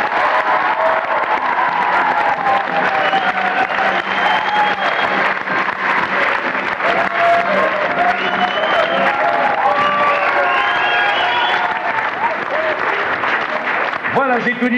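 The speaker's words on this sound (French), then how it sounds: "On peut les applaudir très fort." A theatre audience applauds the 150 actors of a stage show with loud, sustained clapping and crowd noise that fills the room without a break for the whole stretch.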